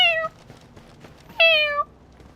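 A person imitates a cat with two clear meows, one short and one longer after a pause, close and alone with no other talk.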